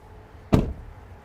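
A small hidden fuel-filler door on a Winnebago Boldt motorhome, built on a Mercedes Sprinter chassis, pops open with a single short, close thud and click against quiet background.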